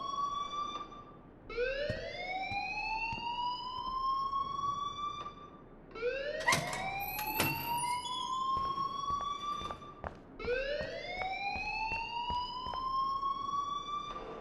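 A loud electronic alarm in Life is Strange repeats three times, each cycle a rising siren-like whoop that climbs and holds before cutting off, with brief clanks and bangs between the wails.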